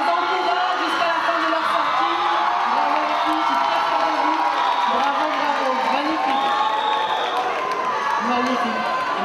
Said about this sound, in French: applaudissements pour les deux filles